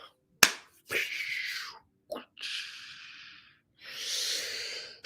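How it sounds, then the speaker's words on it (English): Hands clapping once sharply, then rubbing together in long breathy swishes, with a second softer clap and more rubbing, close and isolated in a quiet room. "We're going to do the thunderclap."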